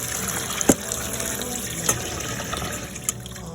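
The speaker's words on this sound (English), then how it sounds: "I like to clean my locust beans like this, so when it's under water, so that all the sand can be removed." Locust beans are washed under running water in a kitchen, a steady, fairly loud gushing and sloshing flow with a few sharp splashes and knocks as the beans are stirred.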